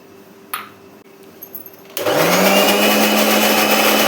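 A mixer grinder switches on about halfway through and runs loudly and steadily to the end, grinding mustard masala paste with water for a mustard curry; before that there are only a few faint kitchen clicks.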